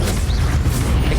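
A Confringo blasting spell in the Hogwarts Legacy video game goes off as a loud, dense, rumbling blast that fills the whole short moment.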